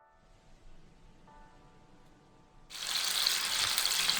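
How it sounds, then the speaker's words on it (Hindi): Seekh kababs hit hot oil on a tawa, and a loud, steady sizzle abruptly swells from near silence and keeps hissing close by. "और फिर हमने तवे पे थोड़ा सा ऑयल डाल के उस पर हमने इसको तलना है।"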